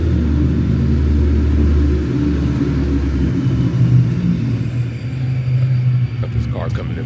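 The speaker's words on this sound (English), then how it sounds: "got this car coming in behind me" A car closes in from behind on a road, a steady low engine rumble and tire roar that swells slightly over several seconds, loud and near, with a person talking over it.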